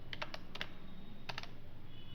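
Someone types HTML code on a computer keyboard, with quiet, close key clicks coming in short bursts and brief pauses between them, alone in a still room.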